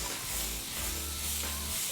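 Tomatoes tossed into a hot pan sizzle and hiss steadily for two seconds, with a low rumble from the stove underneath.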